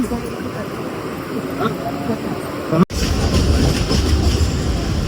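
A crowded Mumbai Dombivli local train at Dadar running with loud continuous rumble and rattling, a brief cut partway, then heavier clatter; crowd voices mix in.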